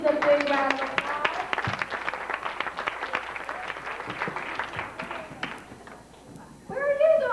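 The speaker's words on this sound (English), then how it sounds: "Give those kids a big round of applause." Kids at a live audition show at Universal Studios Florida get a brief round of scattered clapping from the audience, with an excited voice over it at first; the clapping fades and a voice speaks at the end.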